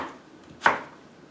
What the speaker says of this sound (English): So he's cutting these more like skinny fries versus steak fries